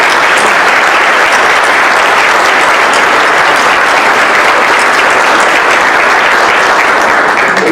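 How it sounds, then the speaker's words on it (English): Sustained applause from an audience at a chamber of commerce mayoral debate, honoring board members; dense, steady clapping fills the room throughout with no talk over it. "We give them a collective round of applause."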